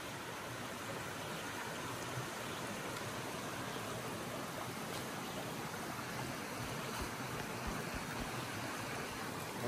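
Mountain stream water in rural Piên, Paraná, flows in a constant broadband rush, steady and fairly faint with no voices over it.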